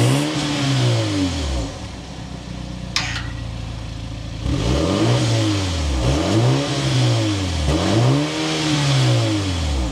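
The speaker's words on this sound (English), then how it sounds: "We need to go inside, start it up, so you can hear that exhaust note." A 2025 BMW 430i Gran Coupe with its B48 engine revs repeatedly near at hand, loud rising and falling exhaust swells following a steady idle, each blip climbing and dropping in pitch.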